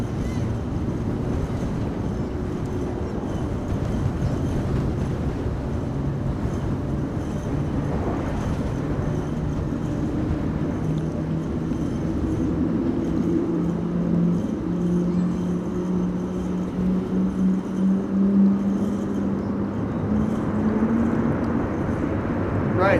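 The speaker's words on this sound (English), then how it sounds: "So this is EasyJet arriving from Krakow," EasyJet airliner arriving from Krakow on its approach to runway 22 at Amsterdam Schiphol in storm-force high winds, a steady low jet roar building and rising in pitch over wind noise, heard from a distance throughout.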